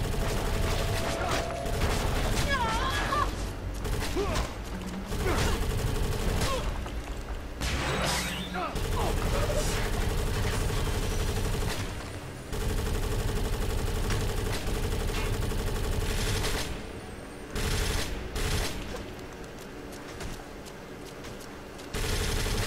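Gunfire and rocket launcher fire in the Avatar video game come as loud, sustained bursts of automatic shooting with booms and mechanical clatter, and a voice talks over them at times.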